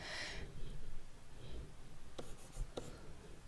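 A pen scratches a triangle onto paper in short close strokes, a few quick scrapes over a quiet room with faint background hiss.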